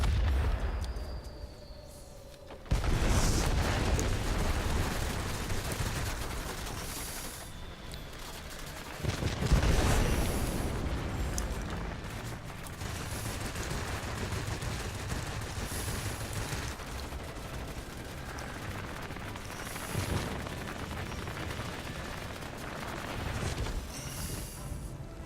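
An IL-2 plane's bombing run in World of Warplanes, heard as a dense stretch of rumbling explosions and gunfire bursts. Heavy booms recur every few seconds over a constant roar, loud and close.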